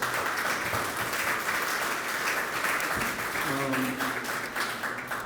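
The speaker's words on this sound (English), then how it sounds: "So let's clap that up for sure." Crowd applause at a community makers market event with remarks from community leaders, steady clapping filling the room for several seconds, with a voice briefly audible near the end.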